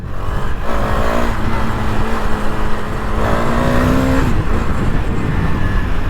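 A KTM Duke 250 BS6 motorcycle with a changed exhaust runs loud and close, its steady engine drone rising in pitch twice as the throttle is revved.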